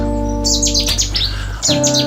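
Small birds chirp outdoors during a photowalk, with several quick, bright tweets in two clusters over a steady low hum of background noise.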